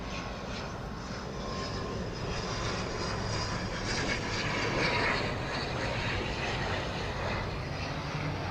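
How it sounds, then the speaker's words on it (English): An ATR turboprop arriving at Auckland Airport from Palmerston North gives a steady, broad engine roar that holds level throughout, a continuous drone at moderate distance. "I've got an ATR coming in from Palmerston North next"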